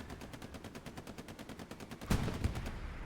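Gunfire in a competitive video game match: a steady rapid string of shots throughout, swelling into a louder, heavier burst of fire near the end.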